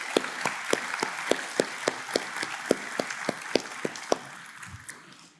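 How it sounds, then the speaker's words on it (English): Audience at an opioid summit applauding the organizers, a steady rhythmic clapping with distinct sharp claps standing out over a softer crowd wash, gradually thinning and fading. "Can we please give them a round of applause?"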